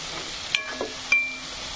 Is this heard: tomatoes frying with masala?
yes